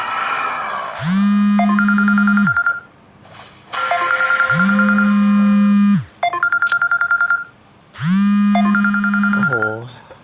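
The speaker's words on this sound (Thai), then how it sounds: "โทรศัพท์เข้า" A phone rings with an incoming call during a Mobile Legends game, a loud repeating electronic ringtone in three bursts, each with a sustained low tone and bright chiming notes, separated by short gaps.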